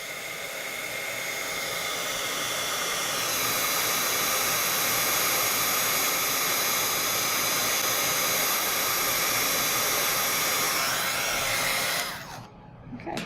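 A heat tool blows hot air to melt embossing powder on stamped paper, a loud continuous whooshing hiss held steady for many seconds before cutting off abruptly near the end.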